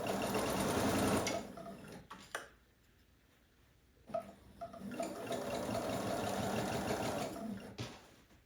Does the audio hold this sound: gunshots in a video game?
no